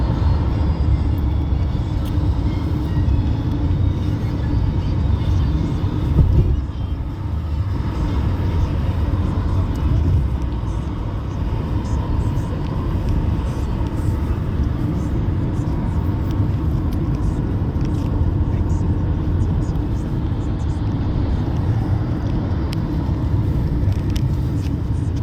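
Steady low road rumble from inside a 2020 Toyota Corolla Hybrid on the move, an even drone throughout with muffled murmurs of voices in the background.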